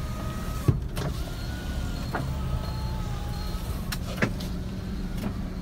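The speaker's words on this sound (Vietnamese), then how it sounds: "4 kính của chiếc xe vẫn lên đều anh em nhé" Power windows of a 2009 Chevrolet Spark running up, a thin whining motor hum with faint thuds as each window stops, heard close inside the car without talk.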